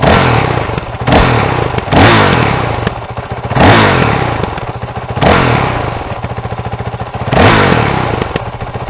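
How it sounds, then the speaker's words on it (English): A Honda CRF450L motorcycle engine fitted with a Yoshimura RS4 exhaust, revved hard up close in four loud rising-and-falling bursts over a choppy idle, with no talk. "so now we'll go and rev it up"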